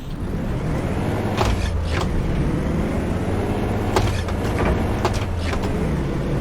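A Coachbus 256 bus in the OMSI 2 driving simulator rumbles along steadily, a constant low engine drone with a few brief clicks and knocks over it.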